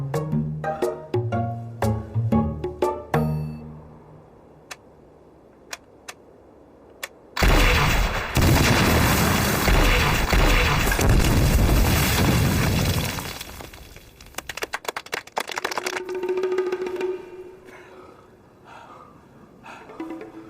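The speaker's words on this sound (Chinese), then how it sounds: "打完子弹还不够，还打起炮弹来了" Artillery shells burst in a military drama battle scene: a run of sharp gunshot-like cracks gives way to a loud, sustained roar of explosions and debris, then fades to scattered pops and a lingering ring.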